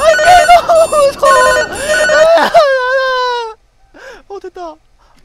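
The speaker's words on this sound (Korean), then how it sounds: "아니 전화 벨소리 또" Telephone bell ringing in the horror game Strange Nights, repeated bursts of ringing mixed with a player's frightened, whimpering voice and exclamations.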